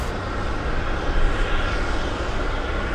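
A fixed-wing airliner takes off at Boston Logan International Airport, a loud, steady, broadband engine roar that holds from start to finish, with no voices.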